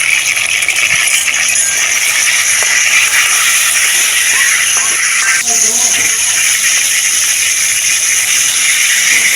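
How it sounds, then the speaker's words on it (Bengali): Hilsa fish head frying in hot oil with turmeric powder and salt, a steady loud hiss and sizzle running throughout with faint utensil clinks. "আর হলুদের গুঁড়া দিয়ে মাথাটা ভালো করে ভেজে নেব।"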